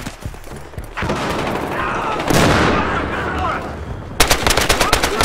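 Rapid automatic gunfire from the Battlefield Hardline multiplayer video game on Xbox One, loud sustained bursts with a heavier blast midway and sharp separate shots at the end.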